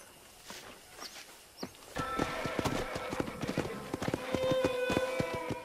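Horse hooves in Red Dead Redemption: a few faint steps, then a steady, close clip-clop of a horse walking, with a low background music bed under the hoofbeats.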